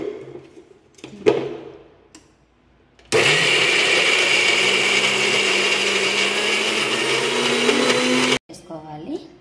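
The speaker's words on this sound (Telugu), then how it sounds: "ఉన్న 6-7 ఎండుమిర్చి కూడా వేసుకుంటున్నాను. బరకగా అనేది గ్రైండ్ చేసుకోవాలి." A mixer grinder coarsely grinds dried red chillies, roaring loudly and steadily for about five seconds before cutting off abruptly, with some quieter handling sounds and speech before and after.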